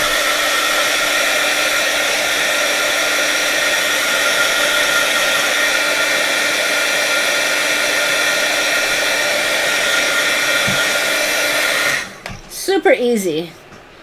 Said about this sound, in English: I guess I could get right into my heating tool, right?